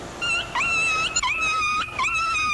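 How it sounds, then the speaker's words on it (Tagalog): A dog that has just been caught or pinched whimpers and whines in high, drawn-out cries that rise and fall, loud and close, with brief breaks between yelps. "May aso, maingay tuloy. Yung aso naipit lang yun, kaya umingay"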